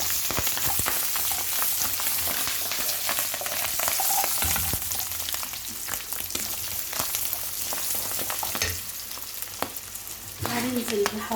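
Mushrooms fry and are stirred in a pan, a dense continuous sizzle with crackles and occasional scraping, loud and close, with a brief clatter near the end.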